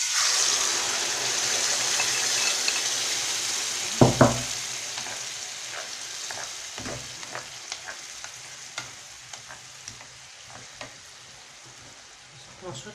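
Onion and peppers fry in a pan, a steady sizzle that slowly fades, with a couple of heavier clatters early on and light spoon taps and scrapes throughout.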